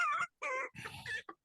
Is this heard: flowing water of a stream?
no